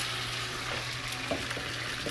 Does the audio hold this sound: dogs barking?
no